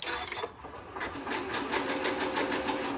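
A Janome sewing machine stitches ribbon with a steady, fast mechanical whir and rhythmic needle clatter, running continuously and close by, with no talking over it.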